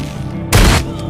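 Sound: gunfire from a video game (Dawn of Zombies)

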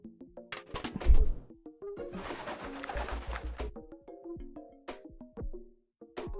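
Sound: pigeons cooing in video game Deponia

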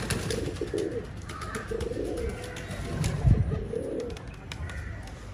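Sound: pigeons cooing at the loft

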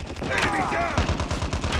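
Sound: gunfire hitting player in Call of Duty Mobile video game

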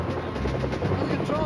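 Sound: helicopter flying

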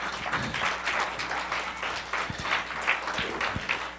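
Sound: congregation hand clapping in praise

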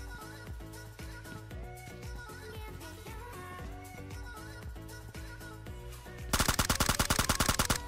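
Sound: gunfire in PUBG Mobile video game

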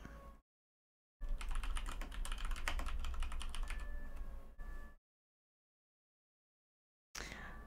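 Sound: typing on a computer keyboard

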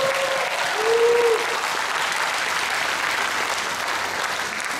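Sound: audience applause at a festival concert

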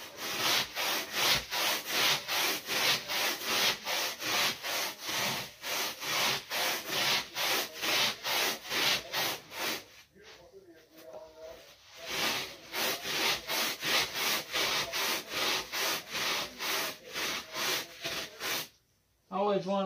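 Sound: brush scrubbing car floor carpet

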